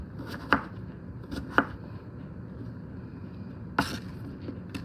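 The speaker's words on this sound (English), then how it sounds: "So I'm trying to cut them all about the same size so that they cook evenly" Kitchen knife cutting fresh squash into even chunks on a board, a few sharp separate chops spaced irregularly over a low room hum.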